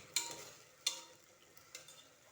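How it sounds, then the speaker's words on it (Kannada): Ground tomato masala frying in a pan, a soft steady sizzle with a few sharp clinks of stirring at intervals, close and quiet, no voices. "ಟೊಮೆಟೊ ಎಲ್ಲ ಮಿಕ್ಸ್ ಮಾಡಿ ಗ್ರೈಂಡ್ ಮಾಡಿರೋದು ಚೆನ್ನಾಗಿ ಫ್ರೈ ಆಗಬೇಕು."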